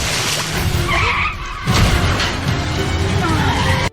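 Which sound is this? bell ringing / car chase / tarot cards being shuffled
car chase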